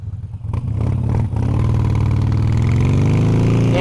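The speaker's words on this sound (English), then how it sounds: "I will open the exhaust just now." A motorcycle on the motorway, Bandit Fighter, opens its exhaust: a few sharp clattering pops give way to a loud, rising engine roar that builds and holds strongly, with no talk.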